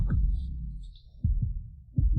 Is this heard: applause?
no